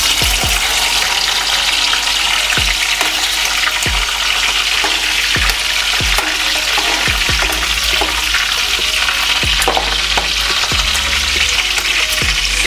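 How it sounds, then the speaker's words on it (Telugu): Green chillies fry in hot oil with fenugreek seeds, giving a loud, constant, close sizzle and hiss, with repeated low thuds and knocks from a utensil against the pan every couple of seconds. "సో ఇప్పుడు మెంతులు వేడెక్కాయి కాబట్టి మనం ముందుగా పచ్చిమిరపకాయలు వేసుకుందాం."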